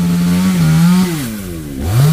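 A four-year-old chainsaw with loose screws, leaking air so its fuel intake falters, revs loudly close by, the engine pitch sagging and bogging, then climbing back.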